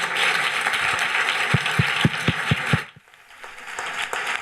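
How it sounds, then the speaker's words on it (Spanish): Audience at a cultural forum on the city gives a final round of applause for the three panel speakers, a moderate crowd clapping that ends in a few distinct claps and then drops away to near quiet. "Pediría un último aplauso para nuestros tres."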